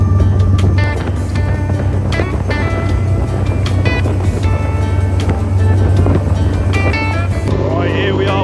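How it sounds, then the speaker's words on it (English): A charter fishing boat's loud engine drones steadily as it steams out of Poole Harbour, a constant heavy rumble with wind and water noise, while people talk over it. "It's a loud engine."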